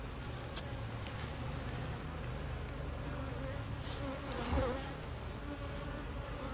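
A dense, steady buzz of many honeybees swarming close around a beekeeper inspecting a hive, a continuous insect hum with a brief swell of louder buzzing near the end.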